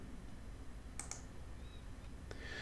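Two or three soft, sharp clicks from a computer mouse while saving in accounting software, isolated taps over a steady low room hum.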